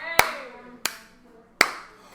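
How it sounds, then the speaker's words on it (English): A teacher claps hands three times, sharp single claps evenly spaced about two-thirds of a second apart in a quiet classroom, each ringing briefly before fading. "When I clap my hands the 3rd time, let's all count together."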